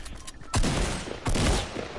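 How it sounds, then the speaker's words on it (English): Infantry rifle fire in a video game, two loud, close volleys of rapid shots separated by a brief pause. "Oh, that's only an infantry rifle."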